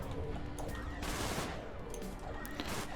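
Weapons fire continuously at a missile turret in the space shooter Everspace, a dense, steady barrage of rapid shots and blasts with no pauses across the stretch.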